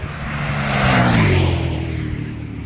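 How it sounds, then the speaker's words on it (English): A motorcycle passes along the Dorchester on Thames bypass, a road used as a motorcycle test track, its engine swelling to a loud drone and fading with a falling pitch as it goes by, heard alone outdoors. "Oh yeah, here comes a biker."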